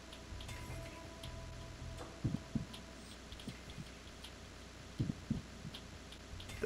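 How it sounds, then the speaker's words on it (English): A faint, slow game heartbeat from Metal Gear Solid 2 thumps in soft irregular pairs over a quiet low background hum, with no talking. "That sounds like a heartbeat."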